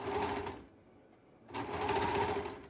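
An overlock sewing machine stitching and trimming four layers of thick hoodie fabric: a close, steady mechanical whir that stops briefly in the middle and then resumes, with no talking.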